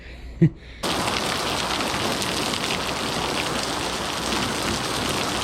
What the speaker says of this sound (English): As soon as I shut the camera off on the intro, it started pouring.